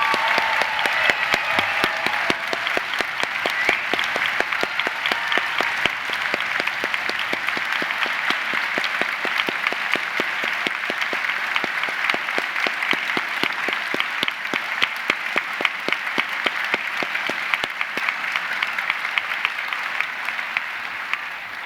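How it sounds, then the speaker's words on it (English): Steady, dense applause from a large audience at a university degree ceremony rolls on without a break for over twenty seconds. "let's start today's ceremony by giving them all an amazing round of applause."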